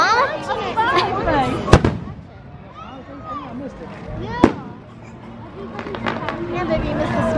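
Two sharp Fourth of July firework bangs burst out at Legoland, one early and one midway, over steady crowd chatter and excited voices.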